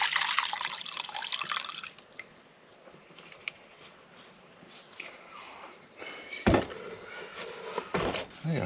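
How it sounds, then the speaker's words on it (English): Dirty fuel drained from a Husqvarna 122LK trimmer that only runs on choke is poured into a container, with close, splashy liquid pouring that fades to a trickle and then returns in short sloshing bursts. "So let's pour it in here."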